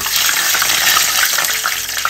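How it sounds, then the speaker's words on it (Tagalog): Dense, steady crackling sizzle of eggplant frying in hot oil, loud and close with no pauses. "Prito po tayong talong."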